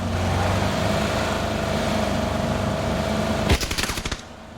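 In the video game PUBG, a vehicle engine drones steadily, then a short burst of rapid automatic gunfire cracks out near the end before fading.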